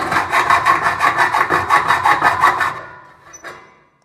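Hacksaw blade cutting through metal trunking in steady back-and-forth strokes, about a dozen rhythmic rasping passes, loud and close, then stopping with a faint clink.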